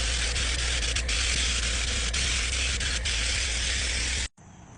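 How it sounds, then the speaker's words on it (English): A spray gun lays Imron industrial paint in Case yellow onto parts of a Case 580 backhoe, a loud, steady, close hiss that runs unbroken for about four seconds before cutting off abruptly into quiet. "I'm spraying the Imron Industrial paint in the case yellow"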